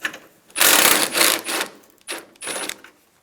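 A hand ratchet works the top radiator bolts on a 2000-2006 Toyota Tundra, giving a few close, loud bursts of rapid clicking separated by short pauses.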